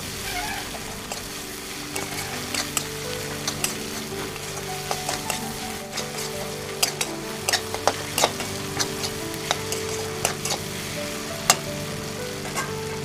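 Chopped tomato being stirred into a tilapia mustard curry sizzling in a pan: a steady frying hiss with repeated scraping and spatula clicks throughout, close and alone with no talk.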